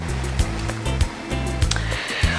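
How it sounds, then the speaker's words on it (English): Spring onions are rinsed under a running kitchen tap for coleslaw, a steady rush of water with a low hum beneath it and a series of soft, regular knocks and splashes. "let me just wash my spring onion and then I'll come back"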